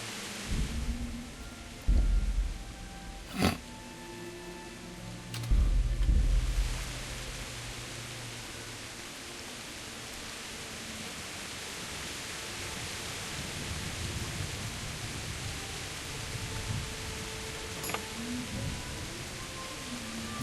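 Rain falling in the video game Kingdom Come: Deliverance, a steady soft hiss throughout with a few low rumbling thuds in the first seconds.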